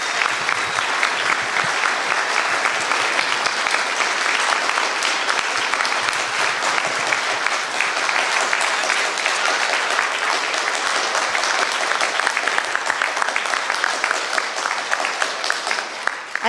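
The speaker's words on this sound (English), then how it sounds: "I think you just got the biggest applause of the night, Dave." Sustained applause from a town hall audience, a thick, even roar of many clapping hands that holds at a steady loudness throughout before easing slightly at the end.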